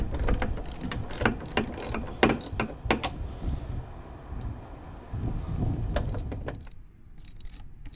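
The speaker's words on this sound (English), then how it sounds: "Here I'm just using a standard 10mm socket because that's what this bolt head is" A ratchet with a 10mm socket on an extension clicks in quick, uneven bursts while loosening a hatch strut bolt on a 1984–2001 Jeep Cherokee XJ, close and crisp, with pauses and faint handling noise between strokes.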